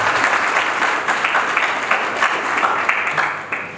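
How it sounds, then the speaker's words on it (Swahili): An audience at the closing ceremony of a leadership course for sergeants and corporals claps loudly and steadily, a thick wash of hands that tapers slightly toward the end. "Tupigeni makofi mengi sana."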